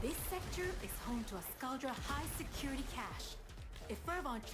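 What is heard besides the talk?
No everyday noise stands out behind the speech.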